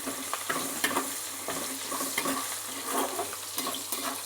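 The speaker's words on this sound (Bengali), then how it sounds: "প্রথমে দিচ্ছি পেঁয়াজ কুচি, পেঁয়াজ কুচিটাকে একটুখানি লাল লাল করে ভেজে নিতে হবে।" Chopped onion sizzles in hot oil in a home kitchen pan while a spatula stirs it, giving a steady close frying hiss broken by regular scraping strokes.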